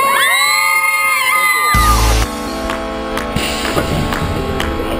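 A large crowd at the Gymnaestrada cheers and screams loudly. A brief bang is heard about two seconds in, and the cheering and shouting go on at a steady level afterward.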